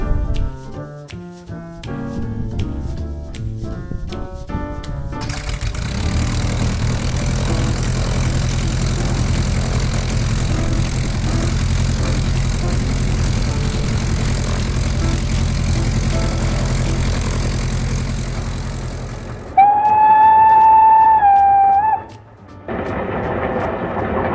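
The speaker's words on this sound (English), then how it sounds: "just getting the engine started and we'll be ready to go" A steam-powered vehicle engine chugs steadily at close range for most of the clip after some earlier clanking, followed by a brief high whistle toward the end.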